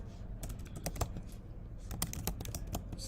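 Rapid, irregular keystrokes on a computer keyboard, close and fairly quiet, tapping out short bursts with brief pauses between them and no talking.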